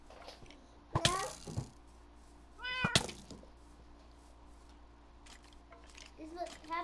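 A cat meows twice, loud and close with wavering pitch, about two seconds apart, followed by fainter sounds and a voice speaking near the end.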